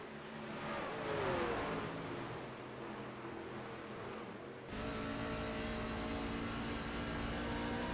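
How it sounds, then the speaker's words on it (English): Truck engine in the iRacing game's Outlaw Truck Series race at Desert Heat 100, steady engine drone with rising revs and an abrupt gear change midway, then continued engine note. "you hear the shifting going on here"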